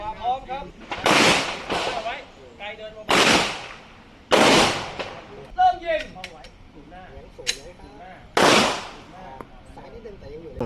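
Pistol fired at a shooting range during a basic precision pistol course: about four loud, booming shots with long echoing tails, separated by gaps, with people talking in between.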